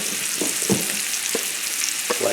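Butternut squash and bacon, seasoned with allspice and black pepper, fry over a high flame in a close, steady sizzle, broken by occasional soft stirring scrapes.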